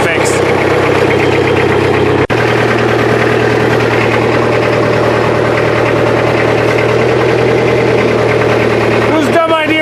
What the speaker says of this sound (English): I'm just going to hit this with the loader and try to pretend like I fixed it.